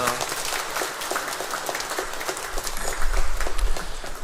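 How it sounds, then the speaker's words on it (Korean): Church congregation applauding during a Sunday worship service, a steady wash of many hands clapping that swells louder toward the end, heard alone without talk. "영광의 박수 올려드렸습니다"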